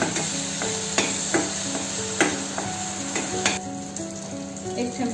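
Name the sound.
fish frying in oil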